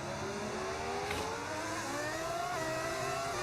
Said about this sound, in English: Bro, how do you get the car to sound like that?